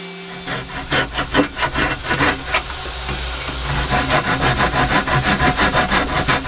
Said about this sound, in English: I'm just going to sand all that out now